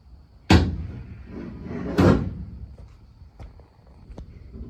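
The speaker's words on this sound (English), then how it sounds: "We then see the shed door open, looking back at the house." A shed door in an analog horror scene gives two sharp, loud thumps about a second and a half apart, followed by faint creaks and small knocks in a quiet room.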